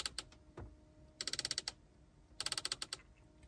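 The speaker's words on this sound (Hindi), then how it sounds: "इसमें जो इन्होंने साउंड्स दी हुई हैं, क्लिकिंग की आवाज़ सुनिएगा" Crisp, close clicks from a Honda Vezel hybrid's climate control dial come in quick rapid runs of several detents each, with a couple of isolated clicks between, in a quiet car cabin.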